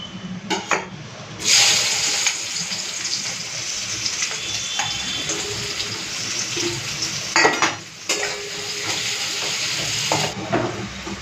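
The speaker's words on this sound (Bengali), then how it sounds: "তো এখন এই পেঁয়াজটাকে ভেজে নেব।" Thinly sliced onion frying in a pan for chicken biryani, a steady loud sizzle with occasional scrapes and clinks of a utensil against the pan.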